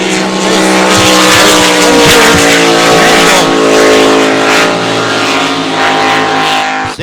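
Loud, sustained engine roar from a race boat during Gold Cup practice, droning steadily with a strong harmonic whine at close range for the whole stretch.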